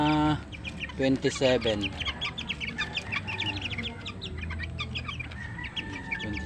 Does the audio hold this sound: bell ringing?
no